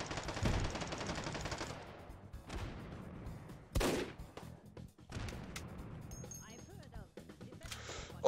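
Heavy video game gunfire from a beefy-bullet weapon in Meat Fortress, dense loud bursts of shots under and between talk, with a brief crash and pauses.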